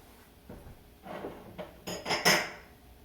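A measuring cup scooping soaked vegan overnight oats with chia seeds and bananas into bowls, giving a few soft scrapes followed by louder clinks and knocks against the dishes, close up.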